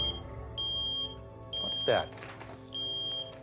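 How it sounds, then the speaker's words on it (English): A smoke alarm beeps in long repeated tones with short gaps, loud and close, during a house fire, while a person briefly speaks partway through. "all of a sudden the smoke alarms went off"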